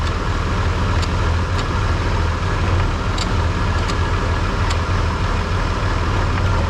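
A car engine running steadily while the transmission is tested after clutch work, a loud, even low hum and rumble with faint occasional ticks, close by and without speech.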